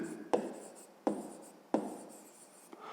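Handwriting during a fifth-grade math exercise: three sharp, distinct pen strokes spaced about a second apart, close and fairly quiet, each fading into a soft scratchy rustle, with no talking.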